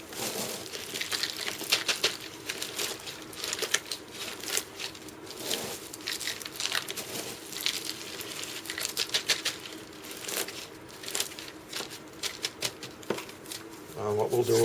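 Coarse bark chips are poured and pushed into a pot around a three-year-old Cymbidium dayanum orchid's roots, giving a steady close rustling, crunching patter that runs almost continuously, with a voice talking over it.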